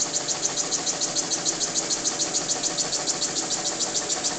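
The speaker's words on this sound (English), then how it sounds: "This is the single acting slide valve engine." A small single-acting slide valve model engine built mainly of brass runs steadily, giving a fast, even chuffing beat with a bright hiss, close and alone.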